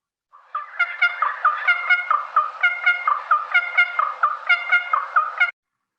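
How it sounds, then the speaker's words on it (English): Recorded call of a little wattlebird, nominate race: a rapid series of harsh, repeated chirping notes in a steady rhythm for about five seconds, clear and close against silence. "Little wattle bird, nominate race."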